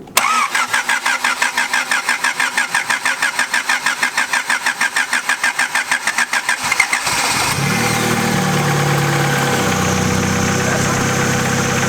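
A Honda Civic EG hatchback cranks in a steady rapid rhythm for about seven seconds after a head gasket repair, then catches and settles into a loud, even idle, close up with no talking.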